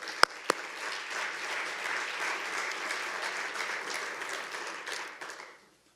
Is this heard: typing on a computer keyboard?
no